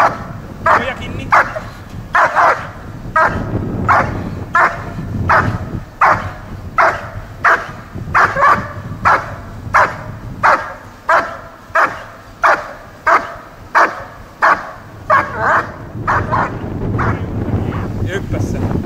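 A dog barks over and over in a steady, evenly spaced rhythm outdoors, with wind buffeting the microphone and people speaking at times.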